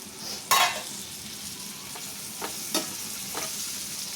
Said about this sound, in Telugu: నేను టూ మీడియం సైజ్ టొమాటోస్ తీసుకున్నానండి కట్ చేసి వేసేస్తున్నాను